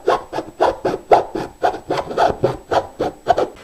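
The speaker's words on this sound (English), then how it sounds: "we want to use the keyhole saw to make our cut" A keyhole saw cuts through drywall in a steady rhythm of about a dozen rasping strokes, close and moderately loud, with no talking.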